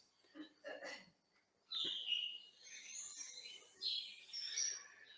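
Starling singing and mimicking other birds' calls, a run of whistles, chirps and rasping notes delivered in short bursts with pauses, faint and outdoors in a quiet natural park.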